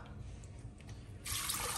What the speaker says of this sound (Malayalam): 1 കപ്പ് വെള്ളം ചേർത്ത് കൊടുക്കാം